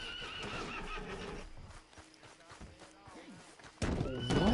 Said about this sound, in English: What the fuck is happening to my damn horse?